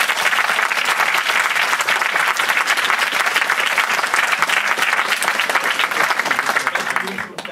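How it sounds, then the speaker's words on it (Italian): An audience at a small theatre performance bursts into sustained applause for the performers, dense clapping filling the room for several seconds before it begins to thin out at the end. "intanto vorrei un applauso per loro"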